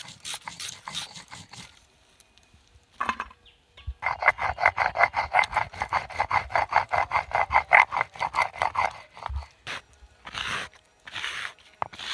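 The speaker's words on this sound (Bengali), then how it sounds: "এবার আমি আদাটা বেটে নেব।" Ginger ground into a paste on a stone makes a steady run of rhythmic scraping and crunching strokes, close and fairly loud, with short pauses and a few separate knocks at the start and end.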